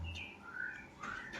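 A green leafbird (cucak ijo), a caged songbird, gives a few clear whistled chirps and sliding calls, fairly close and moderately loud over a quiet background.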